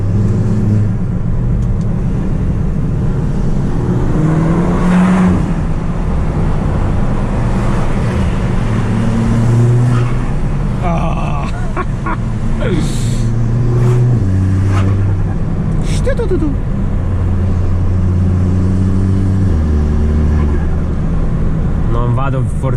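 An Audi S3 8P tuned to 300 hp with a downpipe drives at speed, heard from inside. The engine drones loudly and continuously through shifts and repeated rises and falls in revs over about twenty seconds, with no talk.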